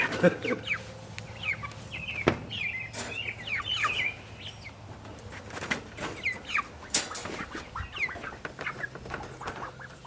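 Chickens cluck and chirp in short bursts close by, with scattered rustling and knocks around them.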